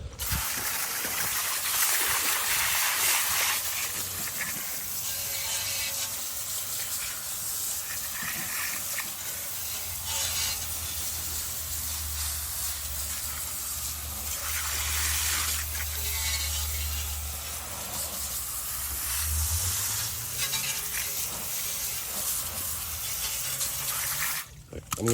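Water sprays steadily over a car wheel to rinse off wheel cleaner, a continuous close hiss, with a low mechanical hum and rattling running under it for long stretches.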